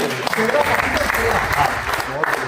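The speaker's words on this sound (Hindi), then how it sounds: "ताली हो जाए" Steady applause from a group of senior citizens at a birthday get-together fills the room, with voices mixed in beneath the clapping throughout.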